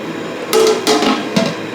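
A metal pot lid set down over chicken rice cooking on the stove gives three short clattering knocks, each with a brief ring, close by and with no talk.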